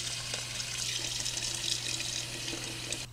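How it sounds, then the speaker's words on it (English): Kitchen tap water runs steadily into a pot of potatoes, a continuous close hissing splash with no talk over it. "I'm just filling the water about 1 inch above the potatoes."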